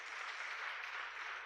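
A church congregation applauds, a faint, even wash of many hands clapping together, steady and distant for a brief moment with no voices over it.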